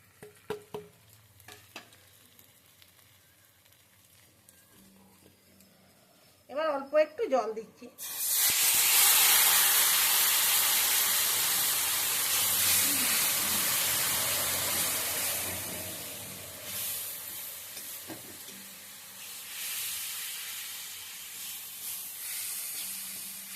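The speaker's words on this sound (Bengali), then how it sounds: "এবার গুঁড়ো মশলাগুলো দিয়ে দিচ্ছি" Ground cumin, coriander, chilli and turmeric drop into a hot pan and set off a loud, sustained sizzle that slowly settles, preceded by a few quiet clinks and a brief voice.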